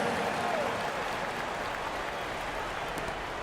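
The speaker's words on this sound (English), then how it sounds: "One more big round of applause, fans" Simulated arena crowd applause in NBA 2K23, a broad continuous clapping roar at a distance, steady and even across the clip.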